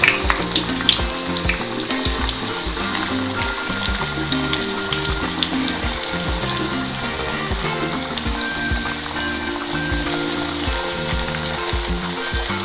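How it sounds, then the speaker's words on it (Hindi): Pieces of fish pan-fry in hot oil over a medium flame, a loud, dense, continuous sizzle and crackle close up throughout, with no talk. "अब हमने फ्राई करनी है फिश अपनी"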